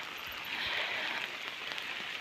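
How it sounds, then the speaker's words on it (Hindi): Rain falls steadily in the mountains on a gloomy early morning, a soft, even hiss of drops on surfaces with faint patters, moderately distant and without any talking. "और यहाँ पे आ रही है दोस्तों बारिश,"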